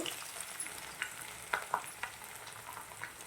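Curry leaves crackle and fry in hot oil in a pan alongside grated ginger and chilli, a steady soft sizzle with a few sharper pops, nearby and moderately quiet with no talking.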